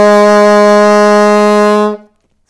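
A low F on alto saxophone, played with the thumb dropped from the register key: one deep, buzzy, resonant note sustained for about two seconds, close and strong, then released cleanly, with no speech.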